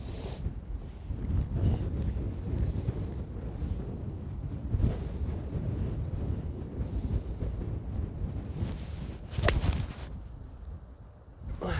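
Wind buffeting the microphone on an open golf course, a continuous low rumble with gusty swells and one sharp burst near the end, loud and close with no talk.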